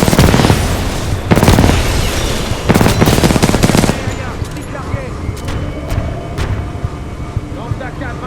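Rapid bursts of automatic gunfire and blasts in Titanfall 2 on PS5, loud and dense for the first four seconds, then fading to scattered distant shots, with a voice speaking over the battle.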